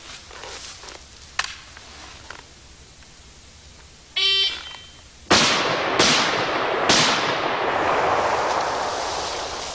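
An electronic shot timer beeps once, then an SKS rifle fires three loud, sharp shots in quick succession outdoors, each followed by a ringing echo tail.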